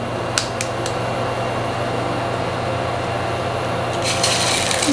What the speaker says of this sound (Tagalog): Pasensya na kayo, medyo maingay ang ating induction cooker